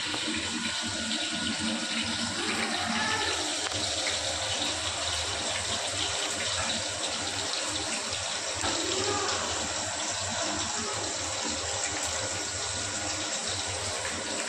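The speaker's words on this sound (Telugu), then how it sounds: "మునక్కండా నీళ్ళు పోసింది మా దాంట్లో." Water streams steadily into a vessel, a continuous gushing rush that stays close and even for the whole stretch.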